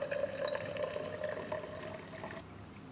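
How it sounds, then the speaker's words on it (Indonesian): Water pours steadily into a spouted glass for an Archimedes experiment, a close bright trickle with a rising filling tone that cuts off near the end. "Kita tuangkan air ke dalam gelas berpancuran hingga di batas permukaan bibir"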